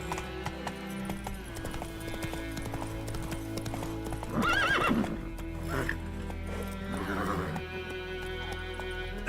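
Roach the horse gallops in The Witcher 3 with rhythmic clip-clop hoofbeats over a musical score, broken by a loud whinny midway and a brief snort later.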